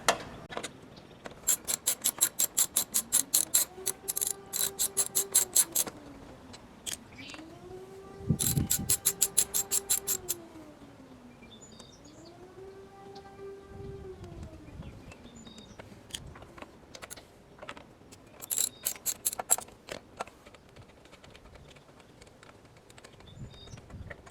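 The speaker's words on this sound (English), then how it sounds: "let me get the rest of these 3 bolts out." A power tool backs bolts out of a Harbor Freight Storm Cat 2-cycle generator in several bursts. Its motor whine rises and falls in pitch, mixed with rattling, ratchety grinding between quieter pauses.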